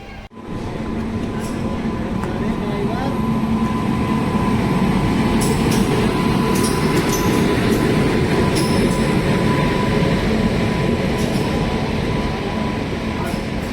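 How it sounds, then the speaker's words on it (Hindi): Bhopal Khajuraho Mahamana Express pulling in at platform 3 of a station, a steady loud rumble of rolling wagons with faint metallic squeals and clanks above it, continuous throughout. "भोपाल खजुराहो महामना एक्सप्रेस अराइव हुआ अभी 3 नंबर प्लेटफॉर्म पे"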